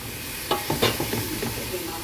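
Chicken pieces are added to a hot pan and sizzle while they are cooked for an Arabic chicken machboos, or kabsa. A few sharp crackling bursts stand out over a steady frying hiss, and no one speaks.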